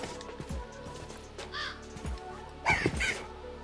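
Ravens cawing in the Minecraft video game, with several separate harsh caws spread out over a few seconds. The last pair is loudest, over a quiet background.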